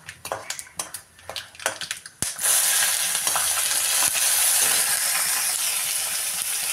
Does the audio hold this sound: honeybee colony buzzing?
no